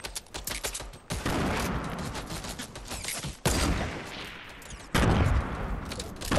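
Minigun firing in the Fortnite video game, three long sustained bursts of rapid gunfire separated by short breaks, loud and close, preceded by a brief rattle of shots.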